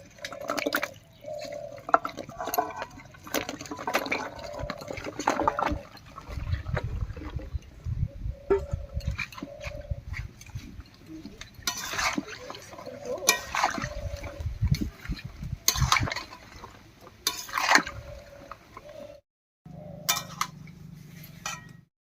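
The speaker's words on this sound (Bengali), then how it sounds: "কড়াইতে জল দিয়ে দিচ্ছি এর উপরেই দেব খানিকটা লবণ এবারে কেটে রাখা কচুর ডাটিগুলো দেবো" Water splashes into a kitchen pan, then cut taro stalks go in with clinks and knocks of metal; pouring and clattering run on and off, with a voice speaking over them.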